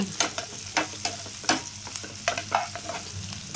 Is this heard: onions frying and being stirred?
yes